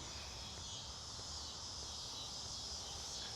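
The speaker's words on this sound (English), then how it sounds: "You can hear the cicadas." A constant high-pitched buzzing drone of cicadas fills the air in a park in Hoffman Estates, Illinois, steady and moderately faint, with light rustling underneath.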